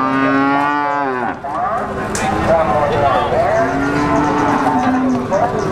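Cattle low repeatedly at a busy cattle market in Ngawi, East Java, with long loud moos overlapping close by and crowd noise and voices mixed in.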